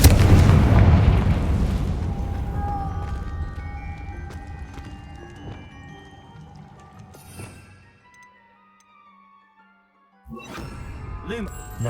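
A Confringo spell blast in the Hogwarts Legacy video game: a deep booming explosion that rolls away into a long fading rumble with scattered debris-like ticks, followed by a brief lull and then a speaking voice.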